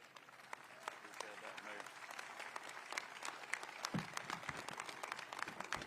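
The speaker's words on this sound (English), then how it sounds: "Please get on your feet and give a rousing round of applause for the 83rd governor of the state of Georgia, Governor Brian Kemp." Audience applause for Governor Brian Kemp at the opening of the Atlanta Public Safety Training Center, a steady dense clapping that runs for about six seconds with sharp individual claps standing out near the end.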